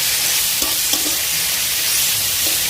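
Onion, garlic paste, ginger paste and tomato frying in oil in a kadai for kosha mangsho, a steady loud sizzle with a few stirring knocks, no talk.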